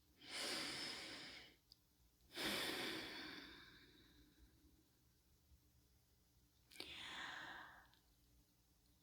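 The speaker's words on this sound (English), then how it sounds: "I'm going to take a few breaths and open the channel." Slow, deep breaths taken before a spiritual channelling session, three long airy inhales and exhales spaced out over quiet room tone, close and alone without speech.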